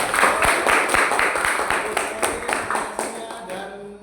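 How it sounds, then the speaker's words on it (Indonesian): A class of vocational high school students in Indonesia claps for a classmate, a dense run of hand claps with a few sharper individual claps that thins and fades out near the end. "Oke, tepuk tangan untuk dia."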